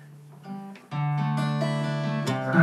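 An electric guitar struck with a standard pick: a soft first note, then bright sustained notes ringing clearly up close, with a fresh strike near the end, no talking.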